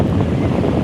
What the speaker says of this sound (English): Wow, look at the waves.